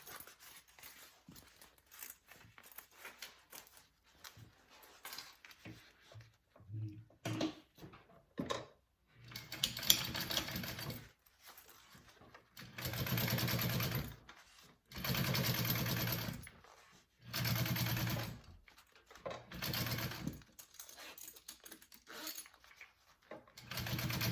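A sewing machine top stitches a circle bag in repeated bursts, several whirring runs of a few seconds each separated by pauses with small handling clicks and rustles of fabric.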